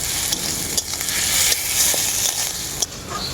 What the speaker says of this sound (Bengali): এখন এর মধ্যে দিয়ে দেবো পেঁয়াজ বাটা শশার সাথে খুব ভালো করে এরপর ভেজে নেব আমি